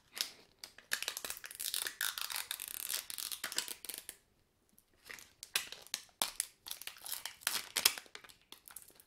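Plastic packaging on an LOL doll ball being torn open by hand makes irregular crinkly rips and crackles up close, with a brief pause partway through before the tearing resumes.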